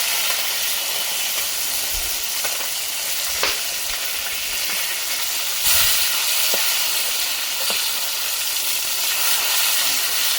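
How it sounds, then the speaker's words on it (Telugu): Korrameenu (murrel fish) pieces fry in oil with a loud, continuous crackling sizzle up close. Occasional clicks and spatters come as the pieces are turned over, with no voices. "ఇంకొక సైడ్ కూడా బాగా ఫ్రై చేసుకోవాలి"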